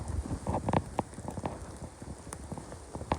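Steady rain patters on a hiker's poncho on a wet trail in northern Pennsylvania, with scattered louder drops tapping the plastic close by against a constant soft hiss.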